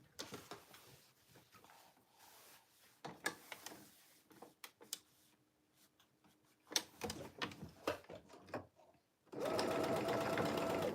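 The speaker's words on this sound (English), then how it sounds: "sewing from this little notch down to, from this little dot down to this little notch" A sewing machine runs along a cargo pants seam, with scattered clicks and handling taps of fabric and machine parts before a steady whirring run of stitching starts near the end.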